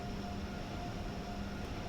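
Acela Express tilting train running in a train simulator on the Northeast Corridor, a continuous rumbling roll with a faint steady whine and thin tonal hum, even and moderately loud throughout with no talk.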